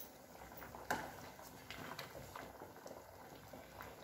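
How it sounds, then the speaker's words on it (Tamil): Hotel-style sambar made with dal and vegetables simmers in a pot, giving a faint, steady bubbling and a few soft pops close by. "நமக்கு நல்லா சாம்பார் கொதிச்சு வருது"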